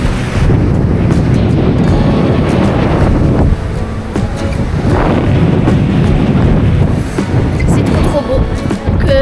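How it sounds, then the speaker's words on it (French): Strong wind buffets the microphone on a beach in Tunisia, a loud, continuous rumble that rises and falls in gusts, with surf faintly underneath. "À la plage, bon il y a un petit peu de vent comme vous pouvez le voir"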